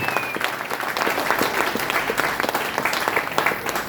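Loud audience applause at a community program event, vigorous uneven clapping from a crowd continuing throughout at close range, with no talking on top.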